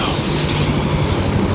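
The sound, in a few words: helicopter flying overhead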